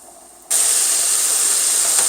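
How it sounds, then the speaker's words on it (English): Floured, seasoned chicken wings hit hot deep-fryer oil. After a brief quiet moment comes a sudden loud, steady, close hissing sizzle that keeps going. "Now that we got our chicken all floured and seasoned up, we're going to go ahead and start deep frying it."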